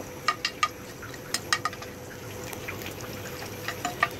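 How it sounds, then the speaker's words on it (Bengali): Chilies and onions fry one by one in a pan for a taki fish bharta. Quiet crackles and sharp pops rise over a soft background hiss, coming in scattered bursts. "এখন আমি এখানে একে একে সবগুলো মরিচ, পেঁয়াজ সবগুলো একে একে ভেজে নিব"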